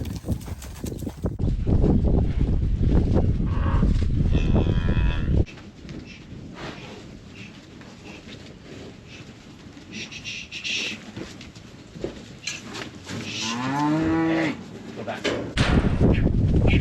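Steers held in a pen at a weighing session moo over steady pen noise and clattering hooves, with several calls rising and falling, one long drawn-out bellow near the end, and voices talking at times.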